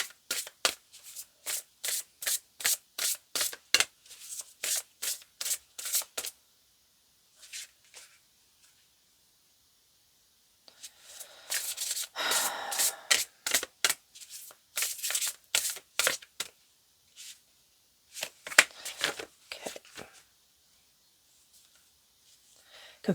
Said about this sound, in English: I was hesitating and then I started shuffling